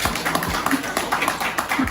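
A seated audience applauds at a Longrich business presentation: a steady, dense patter of clapping hands, moderately close, with faint voices mixed in.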